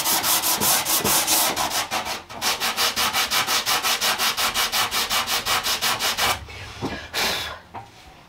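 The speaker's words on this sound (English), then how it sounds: "get your piece of sandpaper, wrap it around the shape that you need" Sandpaper wrapped around a shaped profile is rubbed by hand over the curved wood of a retro G Plan cocktail cabinet, stripping old finish in quick, even back-and-forth strokes, close and loud, with a short pause near the end.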